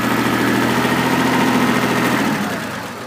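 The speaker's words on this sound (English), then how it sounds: "now we're going to go on my orange tractor" An orange tractor's engine idles with a steady low rumble and mechanical vibration, close by and fairly loud, easing slightly quieter near the end.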